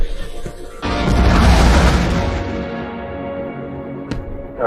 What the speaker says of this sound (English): You see fireworks.